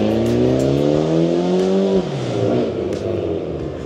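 A Mitsubishi Lancer Evo accelerating hard near a garage, its engine note climbing loud and close through the revs, then dropping sharply at a gear change before pulling again.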